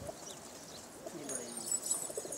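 Pigeons coo softly at close range in short, rising and falling calls over a quiet background.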